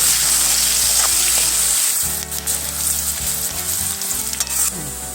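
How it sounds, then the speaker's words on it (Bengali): Chopped onion frying in a pan for mutton kosha, a loud close steady sizzle with occasional stirring scrapes breaking through, the crackle softening slightly partway. "পেঁয়াজ কুচিটা দিয়ে আমি একটু ভালোভাবে ভেজে নেব।"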